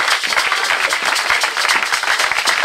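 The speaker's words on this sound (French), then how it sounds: "Voilà, les enfants de Dieu acclament les rois" Steady, close applause from a church congregation fills the moment, a thick wash of many hands clapping without pause.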